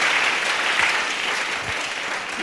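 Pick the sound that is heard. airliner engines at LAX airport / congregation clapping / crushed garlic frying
congregation clapping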